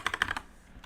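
Quick burst of computer keyboard typing, several crisp key clicks in rapid succession over less than half a second, close and fairly quiet, then stillness.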